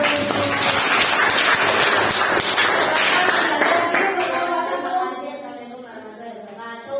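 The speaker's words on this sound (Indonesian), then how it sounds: "kita beri tepuk tangan untuk kelompok 1" A school class applauds a student group, with dense close clapping that fades out and gives way to a voice talking.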